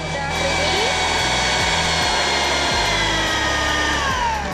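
An electric hand mixer whirs loudly and steadily through cake batter with sugar, close up, its motor droning with a regular rhythmic pulse and no pauses.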